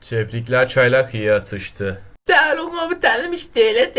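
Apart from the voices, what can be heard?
No everyday noises stand out.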